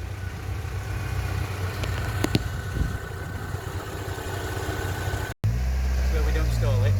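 A classic car idles at the Pride of Longbridge show, a steady low rumble that drops out briefly and then returns louder and deeper, with faint background voices.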